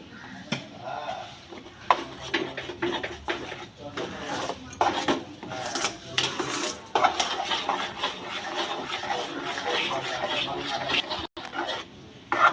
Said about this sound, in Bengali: এইভাবে খুব ভালোভাবে নেড়ে নিতে হবে।